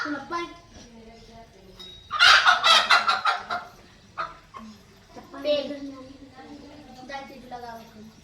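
Two desi laying hens cluck and squawk in a loud burst partway through, with people talking close by before and after.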